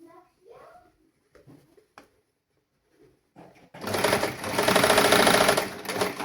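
A sewing machine stitches an opening on fabric in a basic tailoring class, a loud continuous mechanical whir starting after a few seconds of scattered speech and quiet handling sounds.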